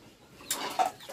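A couple of brief, faint clucking calls from a chicken, spaced apart against a quiet background.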